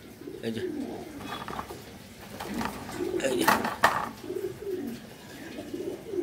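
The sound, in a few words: Giribaz high flyer pigeons cooing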